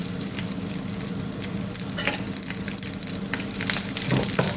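Coconut and garlic cloves sizzle steadily in a pan as they are sautéed and stirred, a dense continuous frying hiss with occasional scraping taps from the spoon, close and fairly loud, with no voices.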